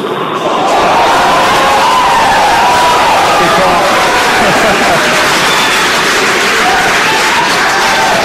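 Crowd cheering and roaring during the SpaceX Polaris Dawn commercial spacewalk, a loud sustained wall of cheers and whistles that holds steady throughout with voices mixed in.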